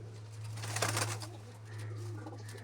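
Soft cooing from home-bred female pigeons, a faint low rolling call under a steady electrical hum, close but quiet.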